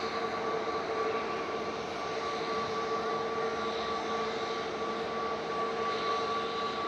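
A faint, steady engine hum with a thin whine comes from an Aer Lingus retro-livery jet arriving from Dublin at Manchester Airport, distant and unchanging throughout.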